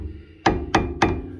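Three sharp metallic taps on a cap fitted to a car's new front brake caliper, evenly spaced about a third of a second apart, close and fairly loud with brief ringing decays.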